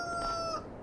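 A farm hen among a flock of about thirty gives a short, clear clucking call with a rising tonal note, close and fairly quiet, alone against faint background.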